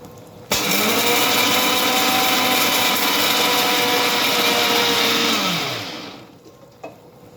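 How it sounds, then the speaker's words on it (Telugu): A mixer grinder runs for about six seconds grinding sesame seeds and peanuts, a loud steady whirring motor that starts abruptly and winds down near the end, with no talking over it. "ఇవి ఉన్నాయి కదా నువ్వులను వేరుశెనగ గుళ్ళు మిక్సీ వేసేసుకుందాం."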